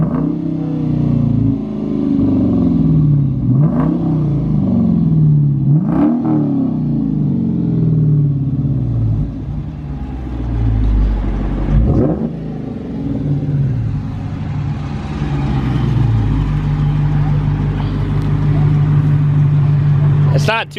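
Dodge Challenger R/T V8 with no mufflers revving repeatedly, loud rumbling blips rising and falling several times before a longer sustained rev, with people talking over it.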